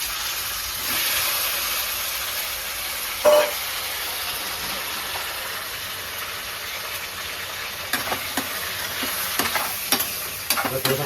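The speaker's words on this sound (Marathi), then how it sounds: "थोडंसं फ्राय करूया आपण चिकनला." Chicken frying in a kadai, a steady close sizzle with occasional scraping stirs and clinks near the end, no talk.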